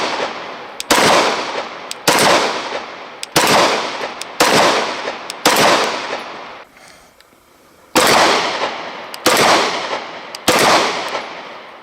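Walther PPQ and Glock 19 pistols fired outdoors in a steady series of sharp, loud single shots about a second apart, each ringing out with a decaying echo, with one short pause midway and no talk.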